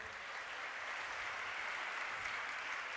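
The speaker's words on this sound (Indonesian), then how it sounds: "ya bisa mandiri dan ada tepuk tangan dulu buat Novandi." Steady, dense applause from a studio audience at an Indonesian Islamic boarding school (pesantren) television event fills the clip evenly from start to finish, with no talk.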